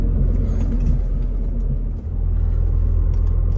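A car engine rumbles low and steady from inside the cabin while driving, a continuous deep drone with a brief dip midway.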